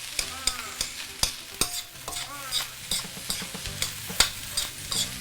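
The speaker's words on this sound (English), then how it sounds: "Give it a few nice final stir." Chinese sausage fried rice stirred in a hot pan with white pepper: repeated scraping and tossing strokes over a steady sizzle, close and fairly loud, no voices.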